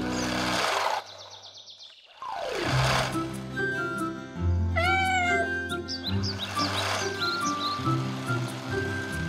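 Soft musical tones and effects, then a kitten's short, high meows near the middle, followed by more tinkling sounds.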